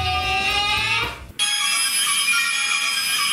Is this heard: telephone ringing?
yes